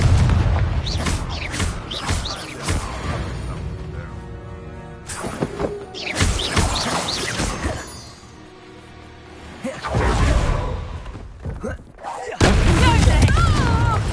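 Repeated fiery Confringo spell blasts in Hogwarts Legacy, loud booms and whooshing bursts across a busy battle soundscape with music and a voice briefly heard.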